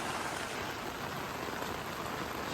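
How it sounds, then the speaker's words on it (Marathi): Heavy rain pours down in a steady, dense roar, loud and continuous with no breaks and no voices. "एवढं पाऊस आहे"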